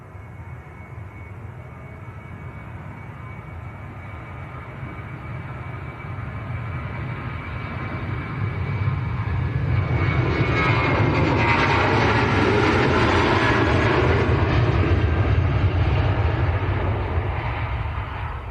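TUI airliner on its takeoff roll at Manchester Airport, bound for Kos: a steady jet engine roar that swells louder midway as the aircraft powers down the runway, heard from the side with no talking.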